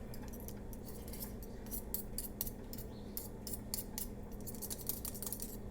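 A utensil stirring and pulling through thick homemade play dough in a bowl, a run of quick sticky clicks and scrapes close up, fairly quiet over low room hum, no talking.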